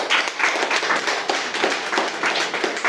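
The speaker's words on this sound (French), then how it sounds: "Applaudissez pour Jean" A small audience claps for a few seconds after a presenter is introduced at a seminar, the claps quick and uneven at moderate loudness, with no one talking.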